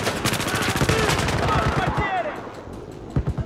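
Rapid automatic gunfire in Battlefield 4 on Caspian Border, a steady stream of sharp close shots that cuts off after two seconds. A couple of isolated shots follow.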